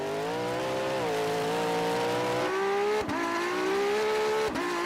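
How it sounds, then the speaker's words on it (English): Several cars, a Porsche among them, accelerate hard in third gear in a rolling race from 100 km/h, their engines rising in a steady, loud roar with a brief dip at each gear change. "what we're going to do now is a rolling race from 100 kilometres an hour in third gear"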